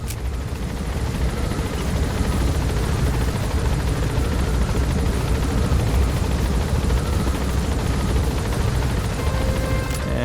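A helicopter from Metal Gear Solid V drones in a continuous, loud, dense rumble that stays steady throughout, with no talk.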